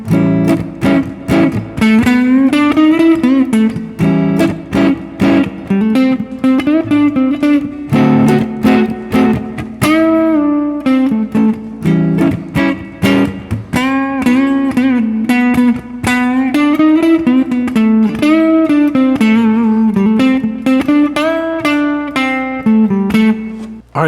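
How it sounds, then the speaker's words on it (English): Electric guitar improvising over a 12-bar blues, moving between minor and major pentatonic shapes, with bent notes, quick picked runs and sustained phrases, played continuously and close with light effects, no talking. "I'm just going to play a little idea for a 12-bar blues."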